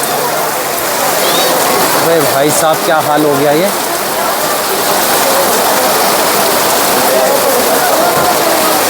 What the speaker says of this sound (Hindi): बहुत तेज़ बारिश आ गई है, बहुत ही ज़्यादा।